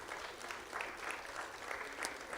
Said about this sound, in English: let's give the founders of this institute a round of applause